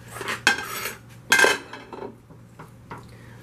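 Metal cutlery clinks and scrapes against a hot baking dish of shepherd's pie, with two sharper knocks among softer scraping and tapping, close and fairly quiet with no talk.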